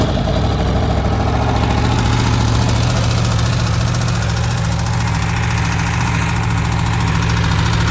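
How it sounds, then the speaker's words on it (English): A 2019 Aprilia Tuono V4 Factory motorcycle engine idles steadily after a cold start, a loud, continuous low rumble with mechanical clatter and no pauses. "let's give it a cold start."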